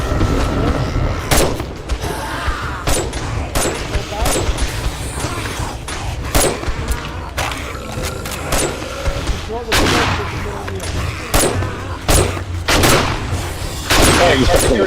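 Automated turrets fire in the zombie survival game 7 Days to Die, sharp gunshots cracking out irregularly in bursts over a constant game background, loud and close.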